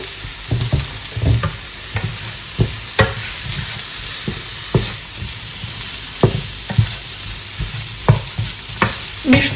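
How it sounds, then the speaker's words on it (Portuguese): Curry with coconut milk and sautéed vegetables being stirred in a pan, a steady sizzle broken by repeated scraping, knocking spoon strokes at a loose, irregular rhythm, close and fairly loud with no talking. "Misturo o curry sempre nessa parte aqui que tá refogando os legumes, que ele mistura muito melhor."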